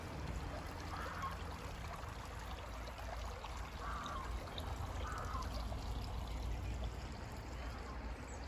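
Calm, low water of the River Jordan in Dorset flows under a bridge, a steady, soft trickling stream with a constant gentle rush.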